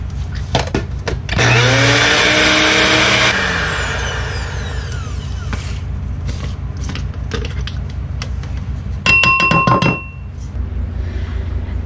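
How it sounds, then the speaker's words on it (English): A high, whirring motor roars up for about two seconds, then winds down, followed by a few clinks and a short buzzing burst. "You can even put this into a blender."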